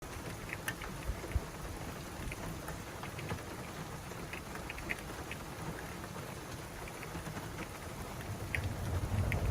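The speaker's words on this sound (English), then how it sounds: "The rain." Steady rain falling outdoors in the Sierra Nevada near Yosemite, a soft continuous patter with scattered nearby drops, fairly faint and alone with no voices.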